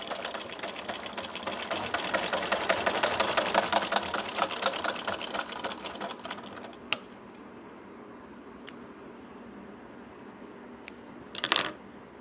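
A sewing machine stitches the folded side edges of a baby girl's night dress, running in a fast, steady whir for about six seconds before stopping, with a few light mechanical clicks and a short rustle afterward.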